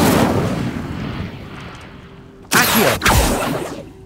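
An Incendio fire spell cast in Hogwarts Legacy, a sudden loud whooshing blast with a crackling burst that cuts off and flares again, following a fading roar of earlier flames.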